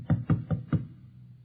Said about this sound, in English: And then there was a knock on the door.